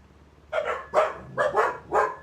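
Dogs bark in a quick burst of about five sharp, fairly close woofs with no talking over them.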